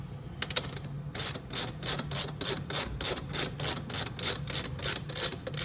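A hand ratchet snugs the front sprocket bolts on a Venom X22 125cc motorcycle, a rapid series of even clicking strokes up close, repeating rhythmically without speech.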